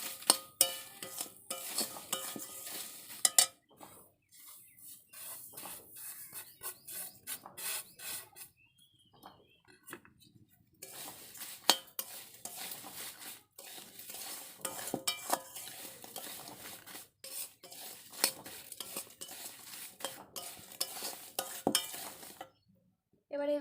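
Fried semolina is stirred into fried potato in a pan for vegetarian suji kofta, with close, repeated scraping and rubbing strokes in an uneven rhythm, broken by short pauses.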